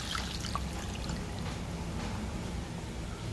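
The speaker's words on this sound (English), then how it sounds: "After natin ilagay yung tomato sauce, lagyan na natin ng 2 cups of water." Water poured into a pot of chicken afritada simmering in tomato sauce, a steady low liquid rush and trickle running continuously and close by with no talking.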